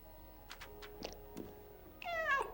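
A cat in the game Stray meows, with a few faint soft sounds first and then one loud, clear, drawn-out meow close up near the end.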